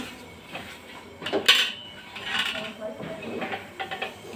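A metal wok (kadhai) is set down on a stove in a home kitchen, a sharp metallic clank followed by softer knocks and rattles of cookware, close by.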